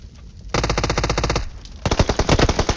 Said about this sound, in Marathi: झोन मधनं कुणीतरी मला गोळ्या मारल्या